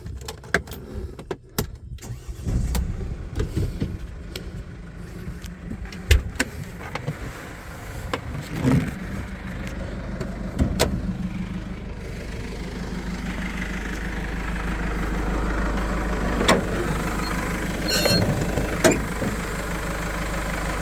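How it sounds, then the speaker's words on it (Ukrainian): A 2018 Mercedes Sprinter 316 passenger van with a 2.2 engine cranks with a few clicks and clunks, then settles into a steady low idle that hums on evenly, close and moderately loud. "Зараз цей автомобіль заведемо."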